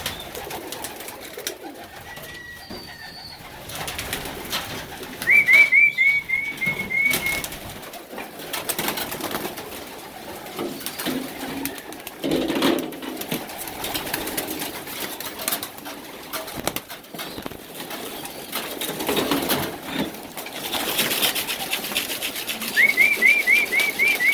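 Pigeons coo steadily in a low, murmuring chorus inside a breeders' loft, with occasional faint chirps and rustling around them.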